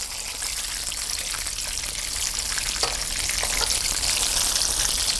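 Schnitzel frying in a shallow layer of hot fat gives a loud, steady crackling sizzle that holds close and continuous throughout, with no voices.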